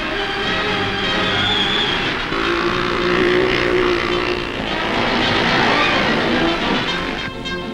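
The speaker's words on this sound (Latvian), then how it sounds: "350 kubikcentimetru klases motocikliem." Loud, continuous engine roar of 350cc racing motorcycles at speed in a 100 km race in Latvia, a steady high-revving drone with shifting pitch and no voices.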